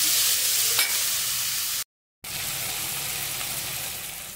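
Chopped tomato hits hot oil in a pan, giving a loud, close, steady sizzle with bubbling that cuts out for a moment before continuing.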